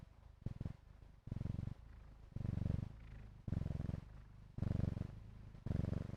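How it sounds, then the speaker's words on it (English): A cat purrs close up, rhythmic rumbling bursts rising and falling with each breath. "Her purring."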